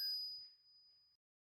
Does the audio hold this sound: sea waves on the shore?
no